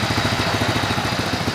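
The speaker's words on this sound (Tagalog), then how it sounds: "Pangit lang talaga yung tunog ng makina" Motorcycle engine idling roughly after a spark plug cap and high-tension wire repair, a loud uneven chugging with a fast, pulsing beat, close to the engine and alone.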